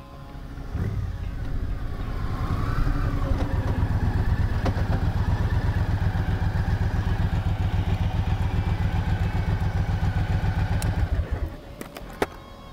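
A 2011 Triumph Thunderbird cruiser motorcycle engine starting up and running close by, a loud steady throbbing idle with a brief rev before it cuts off near the end.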